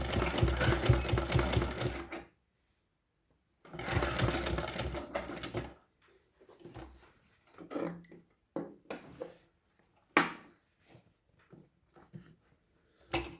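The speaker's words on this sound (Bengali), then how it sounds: "তো প্রথমে এই কোণা থেকে সেলাই করা শুরু করব।" Sewing machine stitching a folded school-uniform belt fabric runs in rapid bursts, two long steady stretches followed by several short stop-start runs of needle clatter, close and clear with no talk.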